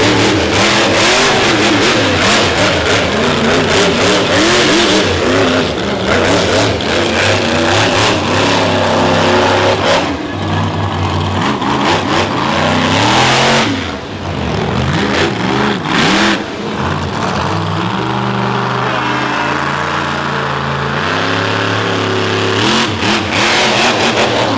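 A monster truck with an old Eddie chassis revs hard during a show run in an arena, its engine roaring loud and near with repeated throttle surges and drops throughout, no talk over it.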